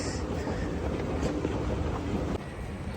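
A Doha metro train leaving Qatar's airport rumbles along with a steady, loud roar of wheels and rushing air, heard from inside the carriage, dipping slightly near the end.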